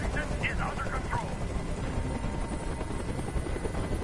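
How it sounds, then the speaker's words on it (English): A helicopter hovers over a hostage standoff in the video game Detroit: Become Human. The rotor drone and chop is continuous and steady throughout, with faint voice-like sounds early on. "Tell that helicopter to get out of here!"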